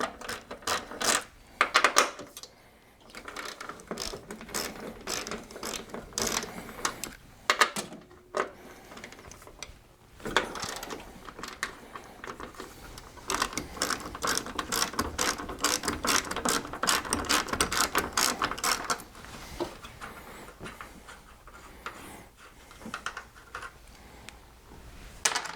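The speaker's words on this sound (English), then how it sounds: "we'll just remove all 3 of these nuts, loosening the strut" A ratchet wrench loosens the three top strut mount nuts on a Pontiac GXP during a Megan Racing coilover install, sounding as fast runs of close pawl clicking that stop and resume over about twenty-five seconds with no talk.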